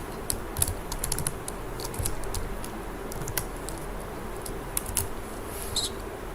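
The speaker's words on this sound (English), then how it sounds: "And now I will type blood group." Quick bursts of typing on a computer keyboard while designing an employee card in MS Word, the key clicks close and crisp, in uneven runs of taps with short pauses between, no talking.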